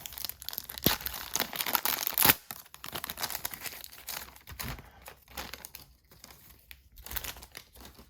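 A 1991 Score Baseball wax pack wrapper is torn open with a steady run of close crinkling and crackling paper, peaking in a sharper tear before softer rustling continues.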